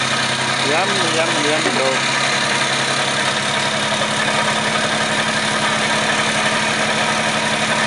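Pontiac six-cylinder 3.65-litre side-valve L engine of 85 hp runs after 39 years, a steady loud idling rumble with even low throb throughout, while someone speaks briefly over it early on.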